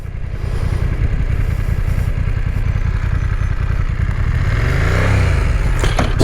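A BMW F900R or Yamaha 600XT motorcycle running with a gear engaged. The engine thrums low and steady over loud wind rush, rising slightly in pitch near the end.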